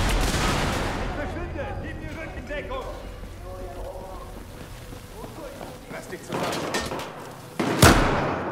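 Voices chatter while a few sharp, loud gunshot blasts from the video game Battlefield 4 burst out near the end, one especially punchy crack close up.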